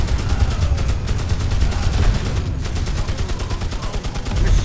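Rapid machine gun fire in the fantasy video game Magicka, a dense continuous rattle of shots running loud and steady through the whole stretch with no voices.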